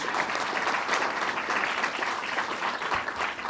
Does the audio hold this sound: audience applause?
yes